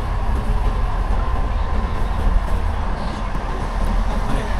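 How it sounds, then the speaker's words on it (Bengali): A slow local passenger train on the Yiwu to Hangzhou line in China, heard from inside the carriage: a steady low rumble with faint rhythmic wheel clatter, continuous and with no voices. "এই ট্রেনটা অনেকটা লোকাল ট্রেনের মতো, মানে অনেক স্লো গতিতে আছে।"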